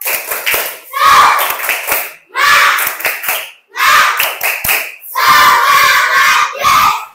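Schoolchildren chant together in short loud bursts, each ending in rhythmic spirit clapping, with brief pauses between phrases.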